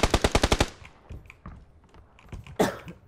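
An automatic M4 rifle in PUBG fires a rapid burst of about eight loud, close shots, followed by quieter scattered shots and one more sharp report.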